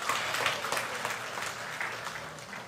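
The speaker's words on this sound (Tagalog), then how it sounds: "Pumalakpak ka nagsasabing, yes!" Church congregation applauding during a sermon, a soft, steady wash of hand clapping from a sizable room, moderately distant and continuing for a few seconds without speech.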